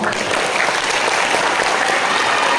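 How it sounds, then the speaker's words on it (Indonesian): Loud, dense audience applause in a classroom or study gathering, continuous and full throughout with no pauses. "Jadi tepuk tangan buat beliau."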